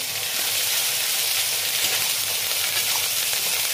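Chili paste hitting hot oil in a pan while cooking boroli river fish, giving a steady, loud, continuous sizzle and hiss throughout with no talking.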